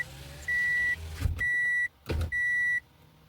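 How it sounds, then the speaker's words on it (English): A car passes outside with an engine swell, and repeated steady electronic beeps sound clearly between its rumbling bursts, fairly close and loud. "Oh, that's a car."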